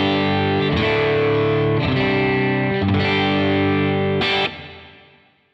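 Distorted electric guitar chords ring out through a UAFX Del-Verb pedal set to plate 140 reverb, with four struck chords and a long smooth tail fading out at the end.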